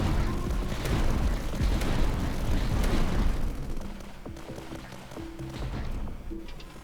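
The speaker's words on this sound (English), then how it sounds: "Slovak Howitzer launches powerful shells at a very long range." Heavy Slovak howitzer in a tower defense strategy game firing powerful long-range shells, a dense rumbling barrage of booms that dominates early on, then eases into lighter scattered impacts and game tones.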